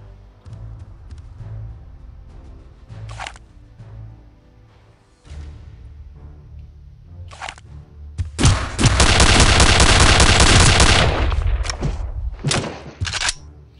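Gunfire in Return to Castle Wolfenstein, scattered single shots followed by a loud sustained burst of rapid automatic fire lasting about three seconds, then a few more shots, with no voices.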